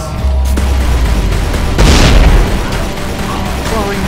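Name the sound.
exploding barrels in video game Tomb Raider Legend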